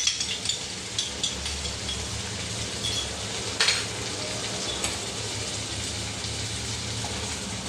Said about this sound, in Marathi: छान परतून घ्यायचं सगळं